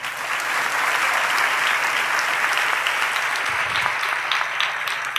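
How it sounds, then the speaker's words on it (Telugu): Steady applause from a congregation at a live special prayer meeting, sustained and dense throughout, with faint voices underneath. "ఇప్పుడు గొట్టరు చప్పట్లో."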